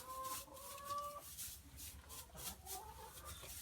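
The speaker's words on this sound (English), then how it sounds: "And our pet chicken." A pet chicken on a small farm with pygmy goats clucks in short, fairly close calls, with a few brief tonal notes over steady outdoor background noise.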